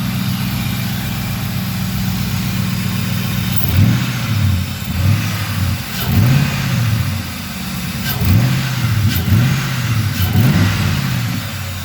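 A 2004 LX Sport car with a new 75mm throttle body, intake tube and MAF sensor idles with a loud, steady rumble, broken by about six short, wavering engine surges near the car.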